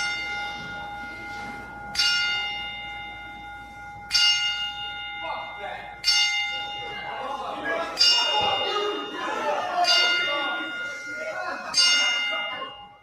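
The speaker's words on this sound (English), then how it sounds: "They did a 10-bell salute for Eddie Guerrero." A ringing bell struck ten times in a ten-bell salute for the late Eddie Guerrero at a wrestling event, each strike landing about two seconds apart and decaying into hushed crowd murmur and shouts between rings.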